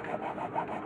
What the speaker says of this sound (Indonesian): pakai gergaji kayu karena terlalu besar